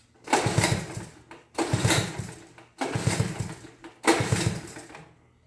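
A Honda ATC110 three-wheeler engine, freshly rebuilt, fires on starting spray in four loud, sputtering bursts, each lasting about a second before dying off, with brief gaps between.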